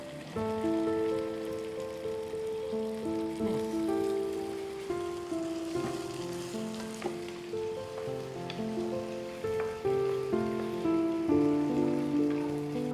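Water poured into a hot pan of chicken in lemon sauce crackles and sizzles steadily at close range, a dense rain-like hiss sustained throughout with clattering and tonal kitchen noises on top.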